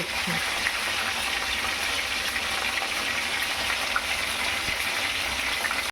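Hilsa fish head frying in hot oil, a steady dense sizzle that stays even and close throughout without any talk.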